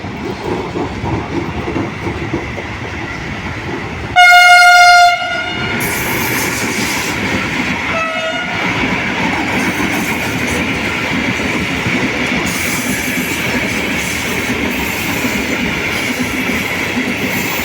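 A loud train horn blares briefly as a Trenitalia regional train departs Padova station, then the steady roar and rumble of the moving train fills the air, with faint hiss and clatter.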